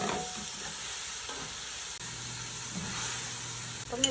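Tomatoes sautéing in a pan with garlic and onion for chicken mechado, a steady close sizzle and hiss with occasional stirring, no voices.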